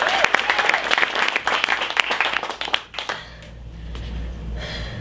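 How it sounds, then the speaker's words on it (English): An audience claps in a dense, sharp burst for about three seconds at an improv show, then the applause fades into low room rumble and scattered faint taps. "Let's give Heather and Gary a round of applause."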